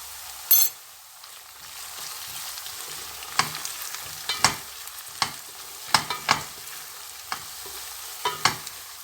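Tomato paste and chili powder frying in a pan for dry dolma, a soft low sizzle punctuated by sharp spoon taps and scrapes against the pan at irregular intervals.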